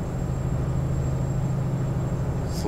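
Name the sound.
truck engine whistling and ringing in Euro Truck Simulator 2 video game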